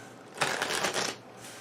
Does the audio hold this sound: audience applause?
no